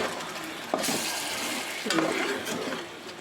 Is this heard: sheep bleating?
no